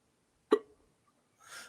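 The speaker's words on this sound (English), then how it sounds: "Got a hiccup." A single sharp hiccup pops out of near silence, close and abrupt with a short tail, followed after a pause by a soft breathy rustle.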